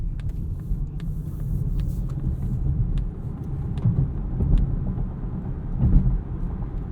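A 2022 Polestar 2 Long Range single-motor electric car accelerates along a road, producing a continuous low rumble of tyre and road noise with slight swells, moderately loud and without voices.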